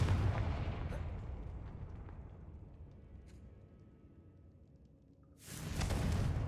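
A Confringo fire spell bursts in Hogwarts Legacy as a loud, booming explosion that rumbles and slowly fades, followed by a second sharp blast near the end.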